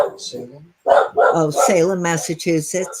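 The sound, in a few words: dog barking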